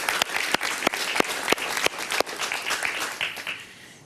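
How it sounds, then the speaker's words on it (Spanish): Studio audience on a Spanish-language talk show breaks into sharp applause, with distinct loud claps in a rhythmic pattern and the noise tapering off near the end. "Un aplauso para ella, muy bien."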